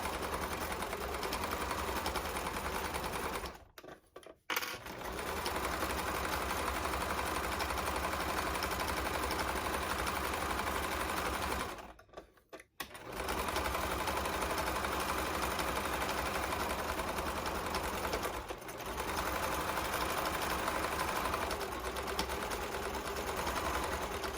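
A sewing machine stitches fabric for a DIY hanging organizer, whirring steadily and loudly with two brief pauses where the needle stops for a backstitch, then running again.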